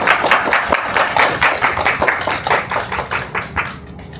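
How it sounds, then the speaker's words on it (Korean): An audience at a Chilean wine master class in Seoul claps steadily to welcome a speaker to the stage, a dense, even patter of many hands that holds for several seconds and tapers at the end. "큰 박수 부탁드립니다"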